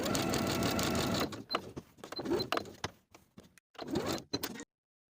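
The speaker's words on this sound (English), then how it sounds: "Now I'm going to stitch right on top of the outer lines of the rectangle" A sewing machine stay stitches along the outer lines of a rectangle on wool jacket fabric, running steadily for over a second, then stopping and starting in short bursts amid handling noises.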